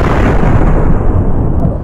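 A loud rifle shot in the hunting video game Cabela's Big Game Hunter 2012, a heavy booming blast that fills the short clip with a broad rumbling roar and slowly tails off, with no voices.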